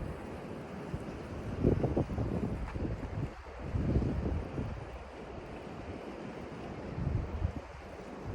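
Ocean surf on the Gulf Shore in Alabama, a continuous wash of waves rising and falling in several soft surges, mixed with gusty wind buffeting the microphone and no voices.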